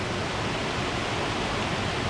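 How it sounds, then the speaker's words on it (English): A waterfall near Saluda, North Carolina, pours in a steady, broadband rushing roar heard up close, unbroken and even throughout with no voices. "come right on top of this waterfall right here"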